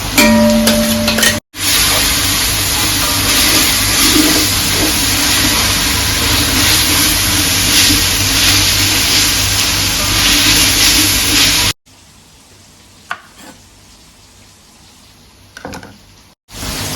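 Onions fry in a pan for a biriyani, a loud close hiss and sizzle that runs steadily, breaks off abruptly, then falls to a quieter backdrop with a few faint clinks, no talk.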